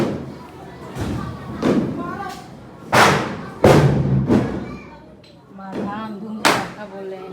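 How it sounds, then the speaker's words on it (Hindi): Diwali firecrackers burst at home, a series of loud, separate booming thuds spaced a second or so apart, close by, with brief talk between them. "धाम धूम पटाखा बोल रहे हैं"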